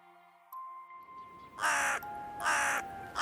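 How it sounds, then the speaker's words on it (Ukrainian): Ravens caw three times in a forest of tall trees, harsh and loud and fairly close, each call a short rasping burst separated by brief pauses, with no voices. "Крики круків змусили Максима розплющити очі"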